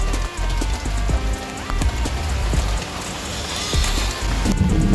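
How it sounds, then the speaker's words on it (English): Steady rain pours outdoors during a storm, a dense loud hiss of drops striking surfaces with scattered heavier splats and a low rumble underneath, continuous and close, with no voices. "Settings that go on outside here in the rain, huh?"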